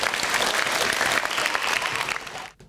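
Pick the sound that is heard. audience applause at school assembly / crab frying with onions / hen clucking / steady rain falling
audience applause at school assembly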